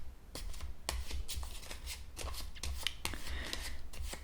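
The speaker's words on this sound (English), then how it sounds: "now that I have my cards shuffled" Tarot cards are shuffled close up in quick riffling bursts, a soft crisp flutter repeating over a few seconds with no talking.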